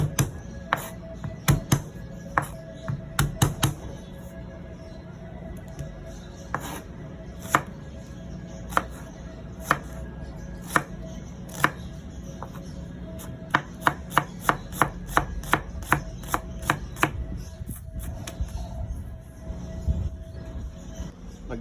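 A knife chops garlic and onion on a board, with sharp, close taps coming irregularly at first and then quickening into a rapid run before slowing again, with a low background hum.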